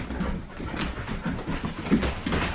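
Dogs pant rapidly and whimper softly close by inside a house, a steady breathy rhythm with faint whines and no talk over it.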